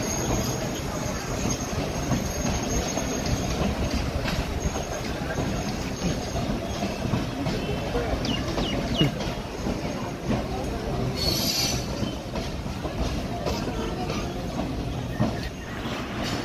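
The Madhumati Express passenger train runs between Rajshahi and Bhanga, Bangladesh, with a constant loud rumbling roar from on board and faint rail clatter and squeal, while muffled voices sit under the noise.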